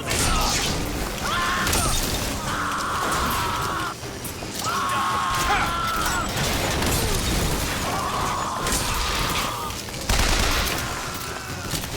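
Explosions and heavy gunfire in the combat video game BioShock Infinite, with rocket blasts amid a continuous loud fusillade and mechanical clatter, dense and close throughout.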